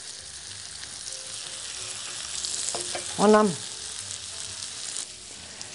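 Veal schnitzel frying in a pan, a steady close sizzle and crackle throughout, with a brief spoken word over it near the middle.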